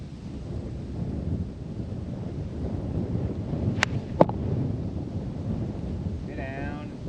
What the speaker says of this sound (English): Fighting that wind.